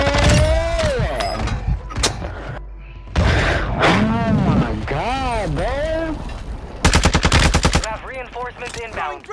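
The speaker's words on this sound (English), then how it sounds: "We're about to shoot them, right?" Video game shootout with rapid automatic gunfire that comes in several loud bursts, one dense stretch of fast shots near the end. Voices and game sound effects run throughout and partly mask the shooting.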